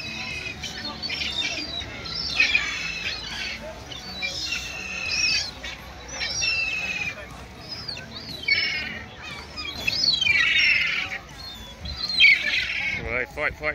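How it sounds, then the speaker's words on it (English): Seagulls squawk and cry in repeated harsh bursts along the Brighton beachfront, loud and close, mixed with outdoor crowd noise and occasional voices. "seagull attack"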